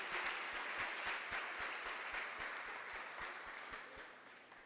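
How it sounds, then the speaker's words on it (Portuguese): A church congregation claps together in a steady, rhythmic beat, sustained and fairly distant, softening gradually toward the end with no talking heard. "Aplauda ao Senhor pela vida do homem de Deus."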